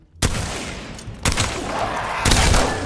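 Three loud shotgun blasts in Apex Legends, spaced about a second apart, each a sharp boom with a rumbling tail that carries into the next, with no voices over them.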